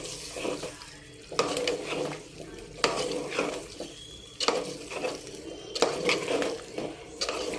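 Spicy chicken pulao masala is stirred in a pot, with repeated spoon scrapes against the metal every second or so over a low sizzle, close and clear.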